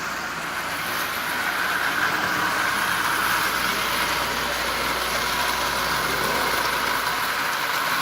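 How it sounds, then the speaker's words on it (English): A vintage Marx 994 toy locomotive with a double reduction motor runs steadily, giving off a continuous, fairly loud whirring hum with a bright mechanical buzz and no voices. "And this old locomotive is just running perfectly"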